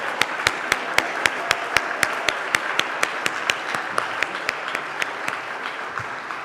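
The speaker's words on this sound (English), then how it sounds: "Let's give them another big round of applause." Audience applause at a conference on love and service, dense clapping with a rhythmic, sharp beat that holds steady and then begins to thin toward the end.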